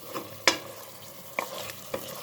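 Aloo gosht masala frying in a pot, a soft low sizzle with a few sharp scrapes and taps of a stirring spoon against the metal, quiet and close.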